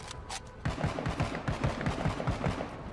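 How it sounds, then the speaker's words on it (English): Rapid cannon fire in the video game MENACE, a quick series of about a dozen punchy booms in a steady rhythm, loud and close with no talk over it. "Deploy the cannon. Shoot the cannon."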